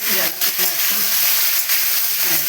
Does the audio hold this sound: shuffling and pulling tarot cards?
no